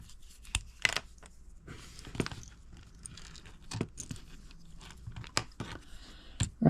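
Cutting into a small 1/64 scale plastic John Deere toy drill produces irregular close crunching and snipping sounds with sharp clicks at uneven intervals, and no one speaks.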